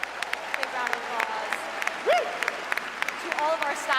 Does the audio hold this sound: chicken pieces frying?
no